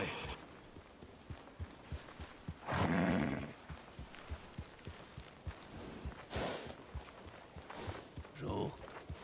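A horse in Red Dead Redemption 2 is led in, hooves clopping in a loose rhythm with a few louder bursts of movement and snorting, and a voice speaks now and then in between.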